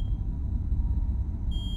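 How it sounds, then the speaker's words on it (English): An alarm clock beeps inside a found-footage horror video game. A thin electronic tone sounds at the start and again near the end over a heavy, steady low rumble of ambience. "Is that the alarm clock?"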